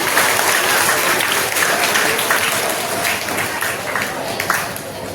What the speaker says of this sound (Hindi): आप अपने लिए तालियां बजा लीजिए, जोरदार तालियां।